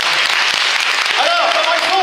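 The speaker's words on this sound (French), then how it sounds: "Il faut applaudir plus fort parce que sinon on va pas." Audience applause at a magic show, a steady patter of clapping under a performer speaking French over it.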